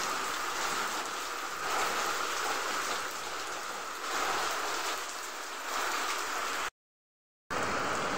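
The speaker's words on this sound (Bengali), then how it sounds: "প্রচুর বৃষ্টি হচ্ছে, আর নিচে তোমরা বৃষ্টির আওয়াজ শুনতেই পাচ্ছ" Heavy rain from a sudden nor'wester storm pours onto a rooftop where water is pooling, a dense, steady hiss of downpour that runs unbroken and loud, cut by a brief silent gap near the end.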